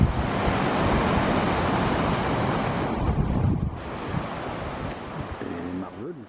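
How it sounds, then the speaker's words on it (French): Waterfalls in the Hautes-Alpes, a short way from a car park, roar as a steady, loud broadband rush of falling water, with talking over it near the end. "il y a toutes nos jolies cascades qui sont devant là"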